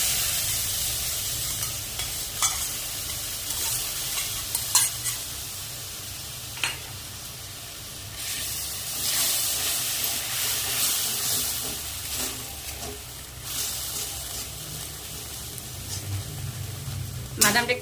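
Peanuts fry in a pan with a soft, steady sizzle and hiss, broken by occasional scraping stirs and clinks, heard up close and fairly quiet.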